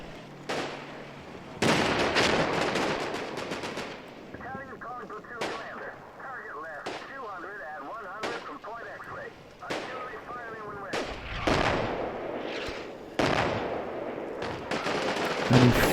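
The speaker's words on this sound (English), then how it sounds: "He's receiving some incoming fire from that Sherman." Gunfire in the Combat Mission video game with a Sherman tank firing: repeated sharp shot blasts and bursts over a rumbling battlefield, with a rapid machine-gun rattle in the middle, fairly loud throughout.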